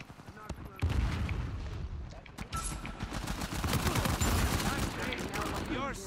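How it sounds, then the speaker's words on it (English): Rapid gunfire from an Uncharted 4 online match, dense fusillades of close, crackling shots and bursts with short pauses, while a voice talks over the shooting. "there's a guy shooting at me"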